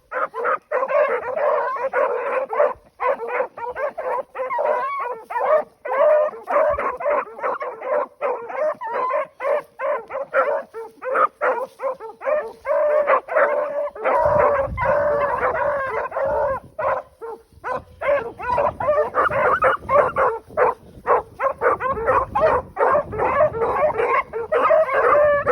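A pack of sled-type dogs, including pups in a starting pen, bark, yip, whine and howl continuously in an excited, overlapping chorus, loud and close throughout.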